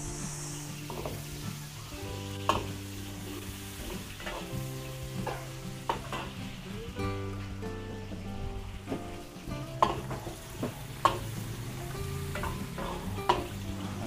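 Garlic and onion fry in a pan while being stirred, giving a steady close sizzle with scattered scraping clicks of a utensil, and no one talking.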